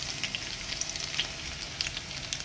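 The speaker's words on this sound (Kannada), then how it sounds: "ಬೆಳ್ಳುಳ್ಳಿ ಜಜ್ಜಿ ಹಾಕಿ" Crushed garlic fries in hot oil for a ridge gourd stir-fry, giving a steady, close sizzle with crackling pops scattered throughout.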